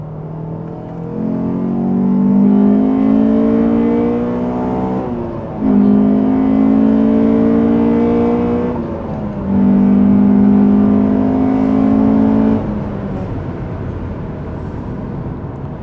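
An AP2 Honda S2000 fitted with a K&N intake drives and revs, its engine climbing loudly through three strong pulls separated by brief dips for gear changes, close and clear.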